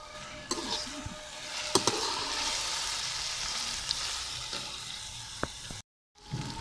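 Ginger garlic paste frying with browned onions in a pot for biryani, a moderate steady sizzle close up, with scattered clinks of a utensil against the pan and a brief dropout near the end.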